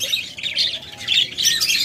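Lovebirds or cockatiels kept in breeding pairs squawk loudly and continuously, harsh overlapping shrieks close by with no talking.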